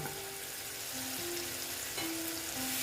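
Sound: tomatoes added to sizzling frying spice paste

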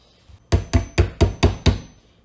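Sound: hammer tapping pins back into a musket stock

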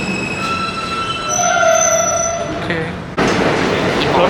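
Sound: subway train arriving at New York station

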